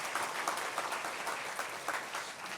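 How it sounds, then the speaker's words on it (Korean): Church congregation clapping together during a Sunday service announcement, a dense, steady round of applause from a sizeable crowd with no voices over it. "박수 한번 해주시기 바랍니다."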